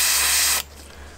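A steady, close hiss of an airbrush spraying paint onto a fishing lure for about half a second, then it cuts off abruptly, leaving a quiet background.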